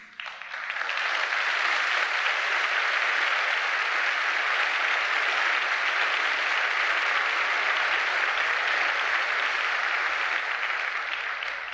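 An audience at a Catholic evangelization gathering breaks into long, dense applause that swells within the first second and holds steady and loud for about eleven seconds, with no voices over it.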